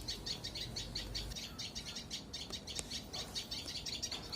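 Small tailorbird calling from a drumstick tree, a faint series of quick, rhythmic high chirps repeating steadily over quiet background noise.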